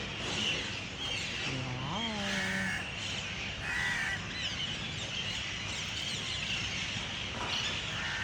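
Harsh bird calls, likely crows cawing, repeat several times over a steady outdoor background hum, moderately distant.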